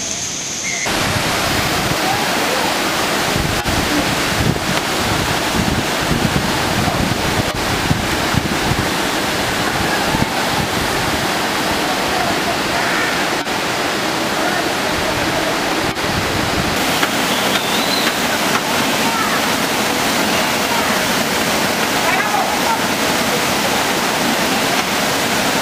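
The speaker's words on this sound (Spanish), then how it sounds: "Mira qué impresionante esa caída de ese río, miren." The river waterfall at Salto Grande, Las Charcas, Azua, gives a constant loud roar of rushing, falling water, close and unbroken throughout.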